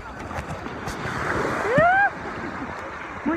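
Ocean surf rolling and washing in at a Rio de Janeiro beach, a steady broadband roar of breaking waves with people's voices rising briefly over it.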